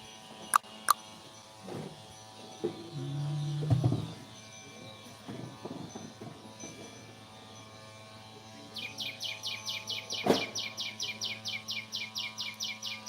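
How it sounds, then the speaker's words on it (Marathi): Crows and other birds chirp near and far, with faint scattered calls early on and then a fast, steady run of repeated chirps toward the end. "कसा चिवचिव करतो कावळा नी पाखरू"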